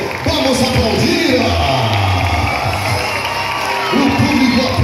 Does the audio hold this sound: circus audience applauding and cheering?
yes